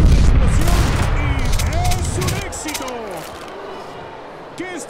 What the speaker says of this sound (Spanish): Vemos algunos disparos.